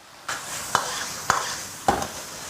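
Sea bass with red peppers stir-fried in a wok, with a steady sizzle and three distinct spatula scrapes spaced about half a second apart, close and fairly loud.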